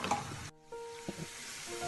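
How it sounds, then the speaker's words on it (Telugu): Onion pakodi deep-fry in oil over a medium flame, a close, crackling sizzle that cuts out for an instant and then resumes with a few soft stirring knocks. "దీన్ని మనం మీడియం ఫ్లేమ్ మీద మాత్రమే ఫ్రై చేయాలి, గోల్డెన్ బ్రౌన్ కలర్ వచ్చేంత వరకు ఫ్రై చేయాలి"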